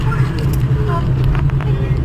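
Heavy car traffic on a congested highway near Baner and the Balewadi stadium road makes a loud, constant engine drone close by, with a voice talking over it.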